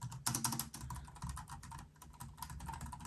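Keys clatter on a Trust NADO wireless Bluetooth keyboard in quick, irregular bursts of crisp clicks, close and clear with no voices.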